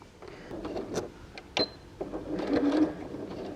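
A sewing machine stitching fabric for a cat-shaped purse, running in several short, close bursts with brief pauses and small clicks between the runs of stitches.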